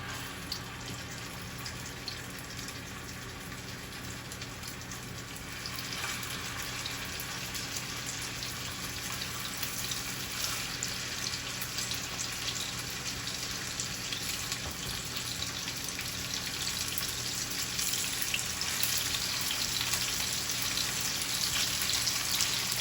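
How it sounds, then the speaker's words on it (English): Steaks sizzle in hot oil in a skillet, a steady close crackle that grows busier and louder after the first few seconds and keeps spitting evenly throughout, with no talk. "our oil is nice and hot, so we're just going to line our skillet with the steaks"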